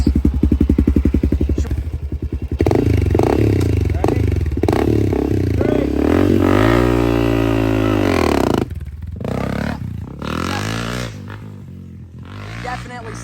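A dirt bike taking off hard, probably in second gear, on a woodland camping ride, its engine revving loud and close with rising and falling pitch, then fading as it pulls away, with people talking around it.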